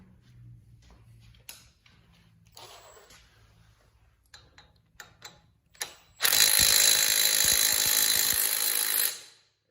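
A power tool tightens a bolt on a 1986 John Deere 216 lawn tractor during a PTO belt adjustment: scattered clicks and taps, then a loud, steady mechanical whirr of about three seconds that stops abruptly.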